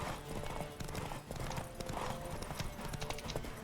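Horse hooves galloping in the video game The Witcher 3, a rapid continuous clip-clop rhythm at moderate distance with a faint snort or whinny and steady background ambience.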